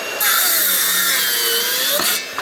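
A Makita saw cuts across an oak board, a loud continuous rasping drone with shifting pitch that holds steadily for about two seconds, then drops away and briefly picks up again.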